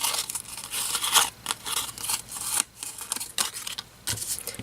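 Red ruby Starstruck foiled paper crumpled by hand for a Valentine art card, giving close, dry crinkling and rustling in irregular bursts with brief pauses between squeezes.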